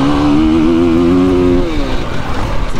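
A motorcycle engine accelerating hard around a race track lap, a loud close roar rising in pitch, then easing into rougher, lower revs.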